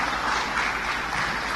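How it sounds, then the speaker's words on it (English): A dense, even wash of crowd applause fills a brief moment at an F4 esports racing competition event, continuous and fairly loud with no clear talk over it. "Have a round of applause for Monica"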